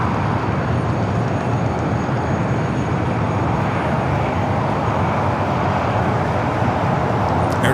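An airliner at Los Angeles LAX airport, with a Frontier A321 lining up for a south side takeoff, a loud steady engine roar that fills the whole stretch without letting up.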